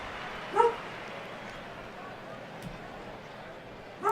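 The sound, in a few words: dog barking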